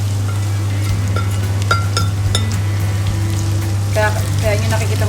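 Onions join garlic in a pan for a big batch of chicken curry, a faint crackling fry under a strong steady electrical hum, with light clinks of utensils and brief bits of nearby voice.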